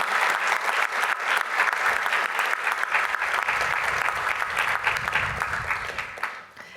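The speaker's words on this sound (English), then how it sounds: "can we give our wonderful judges a great round of applause and have them stand for us?" A crowd applauds its volunteer judges at the CSUN Bull Ring event, a steady, dense wash of clapping that holds strong for several seconds before tapering off at the end.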